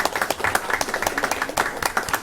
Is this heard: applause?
yes